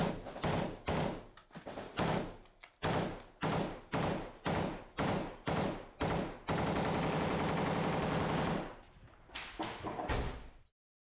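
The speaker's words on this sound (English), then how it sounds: "they're shooting at us from that greenhouse" Heavy, loud gunfire in a combat zone, fired from across a street near a greenhouse: a steady run of single booming shots, then a long sustained automatic burst, then a few more close shots.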